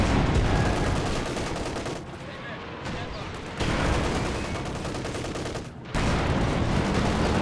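Company of Heroes 2 battle audio: repeated booming tank destroyer shots and crackling gunfire in loud bursts, separated by brief quieter gaps, with a voice talking over parts of the action.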